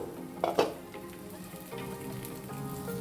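Capsicum fries in a pan with a steady sizzle throughout, broken early on by a couple of louder crackling pops, with no talk over it.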